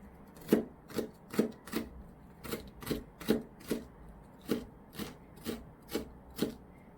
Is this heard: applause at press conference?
no